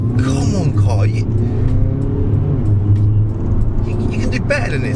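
A car engine revs hard and pulls steadily during a Draggy acceleration performance run, a loud continuous drone heard from inside the cabin with a person talking over it.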